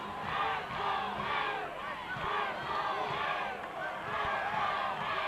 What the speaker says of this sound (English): Camdenton Laker fans making some noise.